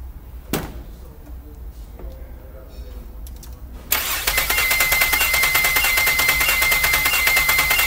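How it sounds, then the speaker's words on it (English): A car's starter motor cranks the engine during a starter amp-draw test, a steady loud churning whir that begins abruptly after a quiet stretch with a sharp knock and continues evenly to the end. "And then I'm going to have my assistant in the car go ahead and crank it."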